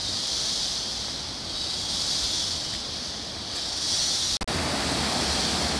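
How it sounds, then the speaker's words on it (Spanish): Steady rushing water roars like a nearby waterfall at Panacam, a broad continuous hiss with a brief sharp knock near the end. "Hay una cascada aquí."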